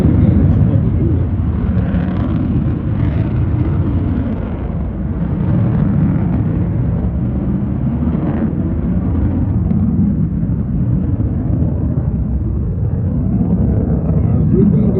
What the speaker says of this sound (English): As the afterburners are lit, each one of those 6 GE 414 engines produces